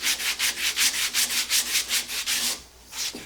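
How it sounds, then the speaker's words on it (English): Hand sanding on a wood carving, a steady back-and-forth rasp of about a dozen quick, even strokes, close and loud, easing off briefly near the end. "And now I'll just do a little sanding here."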